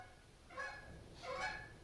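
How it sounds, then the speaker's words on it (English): Geese honk outdoors in two short bursts of several overlapping nasal calls, moderately distant and faint against a quiet background. "Friggin' geese."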